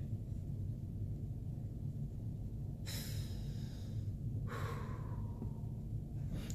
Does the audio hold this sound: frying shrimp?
no